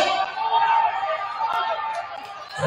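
Crowd chatter and cheering from spectators at a boys' varsity high school basketball game between Hamilton and Badin, a steady loud babble of many voices filling the gym.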